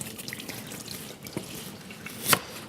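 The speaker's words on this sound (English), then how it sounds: "I'll quickly rinse it" Tap water runs over an item dropped during meal prep, making a faint steady trickle with small drips and one brief louder splash near the end, close by with no talk.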